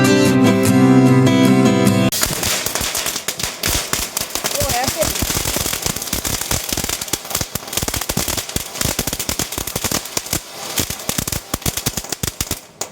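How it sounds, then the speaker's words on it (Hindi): Firecrackers burst on a rooftop during Diwali and Kali Puja night, a dense, rapid run of sharp cracks and pops that follows a short stretch of music, with voices in the background. "1-2 और पटाखे हमने जलाए"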